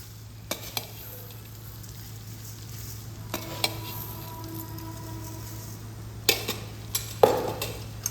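Mango pickle with sugar is stirred in a pan over a low flame, with a soft steady sizzle and intermittent scraping clinks of a spoon against the pan, close and moderately quiet.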